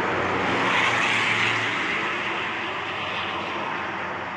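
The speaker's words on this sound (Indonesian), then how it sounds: "bunyi knalpotnya" A bus engine and exhaust roar past on the Trans Java toll road at Batang–Semarang, a loud broadband rush that swells and then slowly fades as the vehicle moves away, with no voices.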